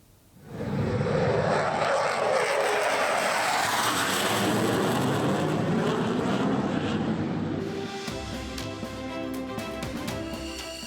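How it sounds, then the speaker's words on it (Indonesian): An Indonesian Air Force fighter jet roars close by on a stretch of the Trans Sumatera toll road in Lampung, a sustained loud engine rush that sweeps past and then settles into a lower rumble. "Jet tempur mendarat dan lepas landas di jalan tol."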